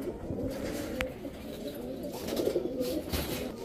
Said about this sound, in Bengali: এখানে তিনোটাই মাদি কবুতর